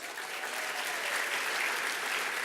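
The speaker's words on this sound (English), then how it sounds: "Give them a round of applause." A gala audience in Los Angeles breaks into a steady round of applause, dense and sustained clapping from a large crowd filling the whole stretch at an even level.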